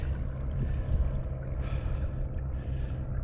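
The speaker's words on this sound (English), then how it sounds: "I apologize for the huffing and puffing" Heavy, labored breathing from a kayak angler on Lake Lanier after paddling against a headwind, close and audible as repeated huffs and gasps over wind and water noise.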